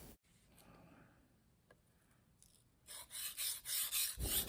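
A cheap chef knife is honed on a THLEITE waterstone. Faint rubbing gives way to loud, close, rhythmic scraping strokes in a steady back-and-forth pattern.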